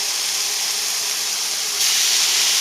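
A steak sears in a hot pan with a loud, continuous, hissing sizzle that swells louder partway through, with no talk over it.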